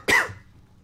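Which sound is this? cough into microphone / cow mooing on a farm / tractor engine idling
cough into microphone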